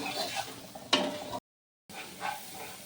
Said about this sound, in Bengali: দিয়ে ভালো করে মশলাটাকে কষিয়ে নেব।